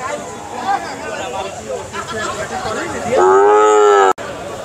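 Sahiwal cattle at a busy livestock market in Chuadanga, one loud drawn-out moo rising near the end over a steady murmur of crowd chatter.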